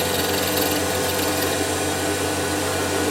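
A steady machine whine of a high-speed steel drill boring through metal after a centre drill, constant and close, with a dense grinding hum throughout.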